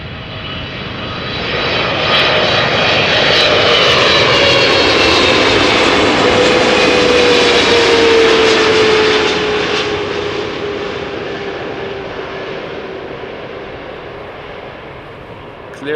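A jet airliner lands at Amsterdam Schiphol, its engines giving a loud, steady roar with a distinct falling whine that builds over several seconds and then slowly fades as the aircraft passes.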